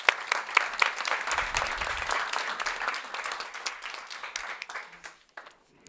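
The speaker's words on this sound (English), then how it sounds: "We give Robert a warm applause" A science summit audience gives warm applause, a full, even round of clapping from a hall that holds steady for several seconds, then quickly fades out to near silence.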